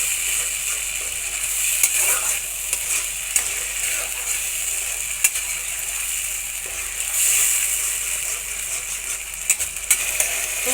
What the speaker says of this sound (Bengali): আমার মশলাটা কষানো হয়ে গেছে যে আমার তেলটা দিকে ছেড়ে দিচ্ছে কড়াইয়ের থেকে